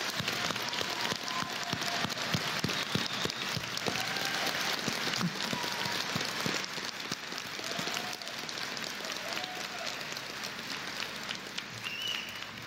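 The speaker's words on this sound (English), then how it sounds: "joining me, please, in applauding the Rhodes State graduating class of 2022." An audience at a Rhodes State College commencement applauds the graduating class of 2022, a dense, steady roar of many hands clapping that holds at even strength throughout.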